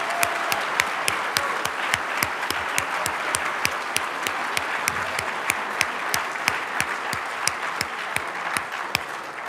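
Ceremony crowd clapping for students at a stethoscope and commitment event, a broad continuous roar of hands with one loud nearby clapper keeping a regular beat, almost no voices.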